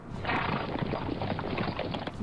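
Cavalry horses in a strategy war game, a dense clatter of hoofbeats with a brief whinny-like cry, busy and mid-distance, with no speech.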